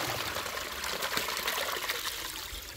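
Running water pours and splashes onto a mat being rinsed, a steady close hiss of spray and trickle that continues without a break.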